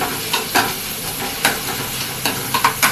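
Big onions, sliced for four and salted with coarse rock salt, frying in a pan with a steady sizzle, punctuated by several sharp stirring scrapes through the oil; no voices.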